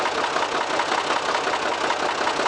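Farm tractor idling steadily in a field after spraying, a constant mid-pitched engine rumble with no talking.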